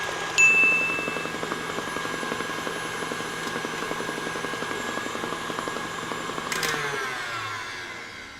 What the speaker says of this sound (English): Let's combine the eggs in a stand mixer.